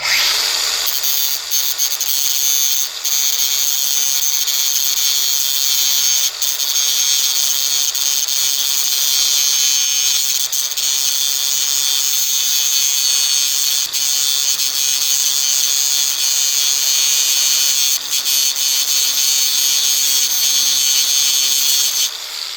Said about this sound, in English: Just going to grind off this rivet head.